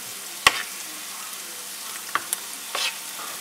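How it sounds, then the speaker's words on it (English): Onion, garlic and red pepper flakes sauté in a pan for shrimp scampi, giving a soft, steady sizzle with a few sharp stirring clicks and scrapes near the start and end. No one talks. "you want to saute your onion, garlic, and red pepper flakes until it's soft"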